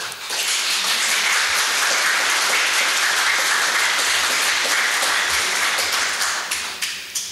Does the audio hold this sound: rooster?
no